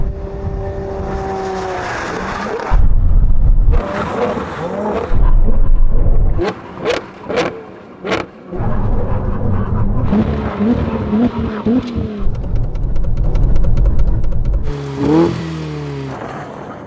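Several Ferrari cars, a Purosangue, 812, SF90 and 296 GTB, brake hard at the end of a drag race, loud roaring engines falling away into repeated sharp tire squeals and skids, with a few short gaps between runs.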